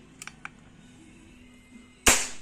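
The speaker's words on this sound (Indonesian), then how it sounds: "Nah, nembak." A Tranq Dart X-2 animal tranquilizer dart gun fires with one sharp, loud crack near the end, after a few faint mechanical clicks.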